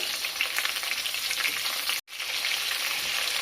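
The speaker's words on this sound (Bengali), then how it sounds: "তেল গরম হয়ে এসেছে, আগে থাকতে কেটে রাখা আলুগুলো এর মধ্যে দিয়ে দিচ্ছি।" Cut potatoes fry in hot oil in a pan, giving a loud, dense, steady sizzle close by with a brief break partway through, no speech.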